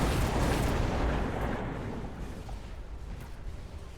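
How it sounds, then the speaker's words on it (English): Rumbling explosions and roaring fire from oil bombs in the strategy game Mechabellum, a loud boom fading into a crackling, sustained burn that slowly quiets. "So much fire on the ground here with the oil bomb, plus Vulcan activation basically"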